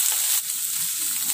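Ginger garlic paste sautéing in a pan for butter chicken, a steady bright sizzle that drops slightly after a moment and then carries on evenly, close by with no voices.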